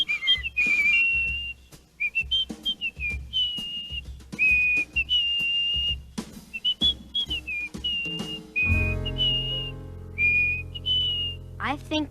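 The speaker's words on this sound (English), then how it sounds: "Just try whistling." Someone whistles a bright, lilting tune up close, with short phrases and brief pauses, joined near the end by a low background hum.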